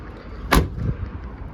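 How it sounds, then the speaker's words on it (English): One car door of a 1984 Chevrolet Silverado 4x4 pickup shuts with a single solid thump, followed by a brief rattle and quiet. "Doors close nice."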